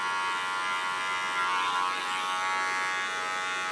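An electric hair clipper buzzes steadily and close up while trimming a sideburn on a bob haircut, holding one continuous whine with no talk.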